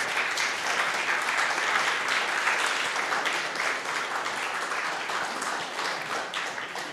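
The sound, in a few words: audience applause, standing ovation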